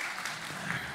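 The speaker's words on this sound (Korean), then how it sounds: "먼저 그냥 먼저 환영의 박수 한번" A church congregation at a Sunday morning worship service claps in welcome, a brief, fairly faint patter of many hands.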